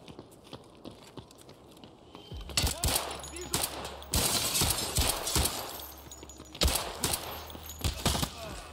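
Video game gunfire in a PvE firefight: quiet ambience first, then loud, sharp shots crack in irregular bursts and single reports, with a voice speaking between them.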